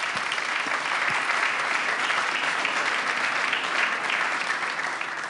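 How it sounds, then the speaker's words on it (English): Sustained applause from a large conference audience at the Munich Security Conference, dense and steady clapping throughout with no talk. "Let's give a huge round of applause to our panel"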